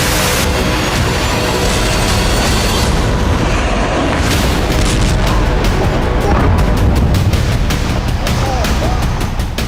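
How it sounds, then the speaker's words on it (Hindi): Wartime explosions in the Russia-Ukraine war: heavy booming blasts and crackling bursts pile up densely, loud and chaotic, with sharp repeated pops toward the end. "दुनिया रूस यूक्रेन में हो रहे धमाके देख रही है।"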